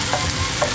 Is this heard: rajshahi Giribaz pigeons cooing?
no